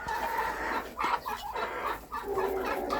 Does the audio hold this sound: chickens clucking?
yes